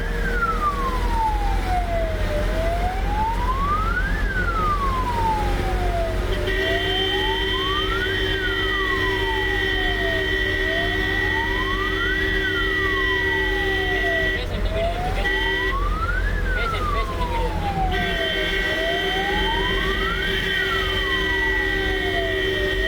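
A wailing ambulance siren sweeps steadily up and down in long repeating cycles, loud and continuous for over twenty seconds, with a second steady alarm tone joining partway through and traffic noise underneath, on a road in Kozhikode, Kerala.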